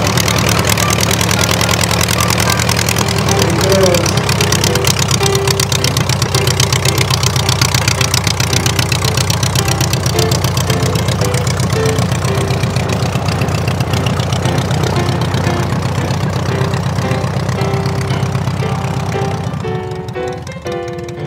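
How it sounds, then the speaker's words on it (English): A Blériot aircraft fitted with a more modern Continental engine idles steadily and loudly at close range, a continuous rumbling drone that holds even throughout and eases slightly near the end, at a vintage aircraft race event. "It has a more modern Continental engine in it."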